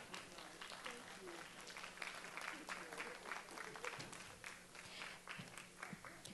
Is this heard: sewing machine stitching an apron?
no